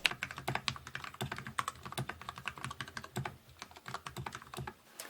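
Typing on a modded custom mechanical keyboard built for under $100, a quiet, close run of fast keystrokes with softer, deeper clicks in an uneven rhythm and no voices.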